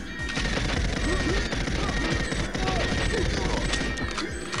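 Rapid, dense bursts of big-gun fire in a GoldenEye 007 Mario 64 mod video game, sustained automatic shots crackling close and loud for the whole stretch.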